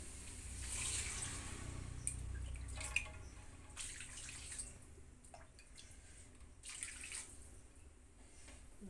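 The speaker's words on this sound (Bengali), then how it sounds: "জল দিয়ে দিলাম" Water poured into a cooking pot in a home kitchen while preparing fish curry and rice, a faint, steady splashing trickle that thins out and drips, quiet and close.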